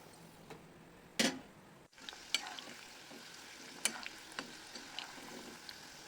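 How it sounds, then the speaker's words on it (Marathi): Tomato snack triangles deep-frying in oil, a faint continuous bubbling hiss broken by a few sharp clicks and taps of a utensil against the pan. "अशा प्रकारे सर्व ट्रायंगल्स तळून घ्यायचे."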